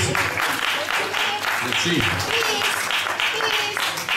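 Concert audience at an open-air show in Alba Iulia claps steadily for the whole stretch, a dense wash of applause with a voice speaking briefly over it.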